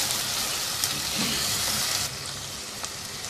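Tomato with garlic-ginger paste sizzles steadily in hot masala for a mutton curry, a loud, dense frying hiss throughout that drops slightly in level partway, with no voices.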